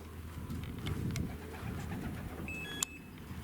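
A pigeon coos softly in short low bursts against steady traffic rumble, with a brief sharp chirp near the end.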